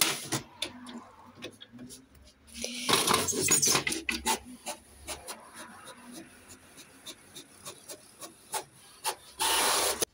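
A new inkjet-style printer runs through a page: rapid clicking and rattling carriage passes, a louder feed whir near the start, then bursts of mechanical chatter and a final loud whir, close by.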